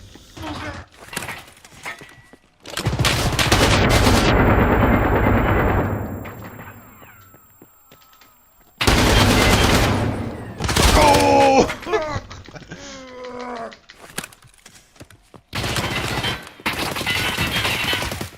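M61 cannon fire in a video game, long loud roaring bursts of rapid fire followed by shorter bursts and impacts, with electronic game effects between them.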